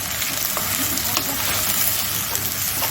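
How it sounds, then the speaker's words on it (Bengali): Chopped onions with garam masala fry and get stirred in a pan, giving a steady, close, dense sizzle that runs unbroken throughout with no voices. "পেঁয়াজ কুচিটা দিয়ে ভালো করে ওটাকে নাড়তে হবে, 5 মিনিট নাড়তে হবে।"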